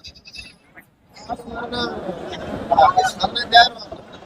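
At a goat market in Kundarapalli, goats bleat several times at close range among a crowd, under ongoing talk and market babble.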